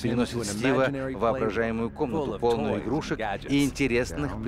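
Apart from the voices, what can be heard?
No everyday noise stands out behind the speech.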